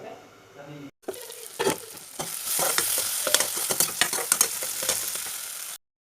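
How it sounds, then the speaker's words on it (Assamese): Pieces of taro frying in a pan over low heat, a steady close sizzle with scraping stirring strokes throughout after a brief gap near the start, then cutting off abruptly. "ধুনীয়াকৈ সিজি যোৱালৈকে ভাজি ল'ম।"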